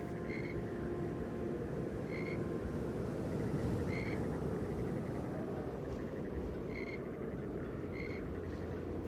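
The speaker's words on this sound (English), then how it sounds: "frogs chirped, and the wind whispered through the reeds" Frogs croak at night near reeds, giving short repeated calls spaced a couple of seconds apart over a constant low rumble of background noise.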